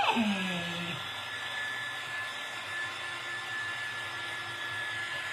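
Hair dryer blowing air to dry craft paint, starting with a whining spin-up, then settling into a steady, fairly close whooshing hum that runs unbroken to the end.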